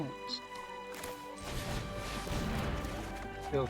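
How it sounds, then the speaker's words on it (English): Explosion in a fantasy role-playing video game, a broad crash and rumble that swells after the first second and holds for a few seconds over music and game effects. "Ill-timed explosion."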